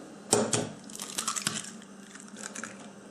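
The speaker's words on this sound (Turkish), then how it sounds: "Öncelikle 2 adet yumurtamızı kırarak başlayalım." Two eggs cracked open while preparing dough for Turkish rose baklava (gül baklavası): a few sharp, close cracking snaps with crisp shell crunches, spaced unevenly across a quiet kitchen background.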